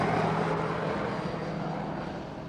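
A propeller airplane drones steadily overhead in a film scene, its engine hum broad and loud at first, then easing slightly as it passes.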